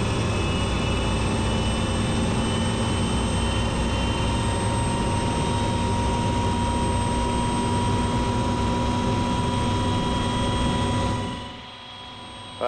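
An OH-6 helicopter's turbine engine runs after start-up with a steady, loud, close whine and layered tonal hum that holds level for about eleven seconds before dropping away abruptly near the end.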